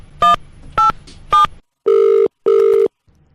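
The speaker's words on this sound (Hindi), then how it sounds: "डायल करो" Telephone keypad tones beep three times in quick succession as a number is dialed for a radio prank call, followed by two longer ringback tones, loud and close with no talking.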